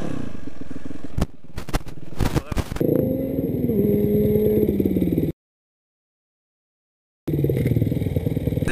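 Motorcycle ridden on its front wheel in a stoppie, the engine clattering and revving close by with sharp mechanical knocks, then a droning pitch sliding down as the bike slows, cut by a sudden gap of silence before the engine returns.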